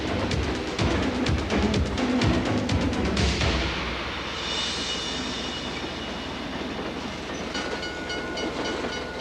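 A runaway train rolling along the track, a steady loud rumble of wheels and carriages with rhythmic clickety-clack early on, easing into a sustained roar, no voices.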